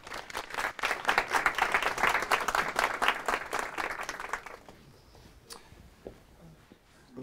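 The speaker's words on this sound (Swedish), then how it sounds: "Så jag tycker vi ger dig en stor varm applåd." Warm applause from a breakfast research-seminar audience, a full burst of many clapping hands that fades away after about four seconds, leaving a quiet room with a few faint bumps.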